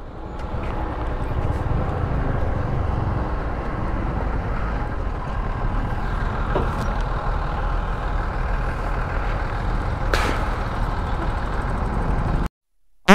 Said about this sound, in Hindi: तो भाई यहाँ पर भी ट्रैफिक लगा हुआ है